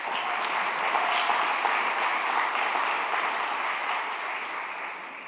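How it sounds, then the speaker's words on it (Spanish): Steady, dense applause from an audience at a church sermon, holding evenly throughout and easing slightly toward the end. "Un aplauso para Jason"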